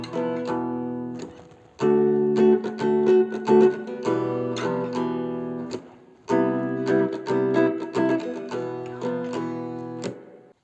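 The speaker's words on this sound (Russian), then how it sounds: "но на самом деле гитарная партия звучит так." An electric guitar plays a chordal part in two phrases, with rhythmic strummed hits and sustained notes, heard alone without voices.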